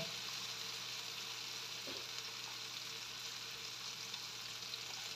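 Boiled, mashed mung beans with tomatoes sizzle and fry in a pan for ginisang monggo, a steady close crackling hiss that continues evenly with a brief stirring clatter partway through.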